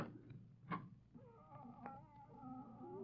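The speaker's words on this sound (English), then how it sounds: "That's the loudest cat I've ever heard." A cat's howl in a radio drama sound effect, a brief yowling cry followed by a drawn-out wavering moan, faint and heard alone without talk.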